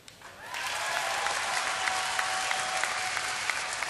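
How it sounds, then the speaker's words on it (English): Audience at a BlizzCon Diablo 3 Q&A session bursts into applause that swells quickly and holds as a steady, dense clapping across the hall, with no talk over it. "So get ready to applaud more"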